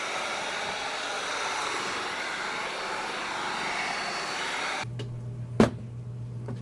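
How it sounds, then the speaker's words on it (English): A cheap Wagner heat gun blows a steady, loud whoosh of hot air onto a car headlight housing, then cuts off abruptly, leaving a low hum and a single sharp knock. "It's just a regular Wagner heat gun I got for 20 bucks at Lowe's."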